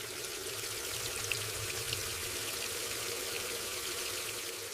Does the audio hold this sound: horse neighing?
no